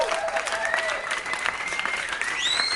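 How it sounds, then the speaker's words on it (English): A podcast audience breaks into applause for new members, a steady patter of clapping with some voices and whoops mixed in. "Let's give them a round of applause."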